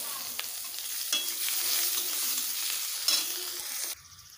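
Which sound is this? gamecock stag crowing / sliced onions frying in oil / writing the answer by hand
sliced onions frying in oil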